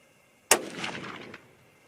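.243 Winchester rifle fired once on a shooting range, a single sharp, loud report followed by a short rolling echo that fades over about a second.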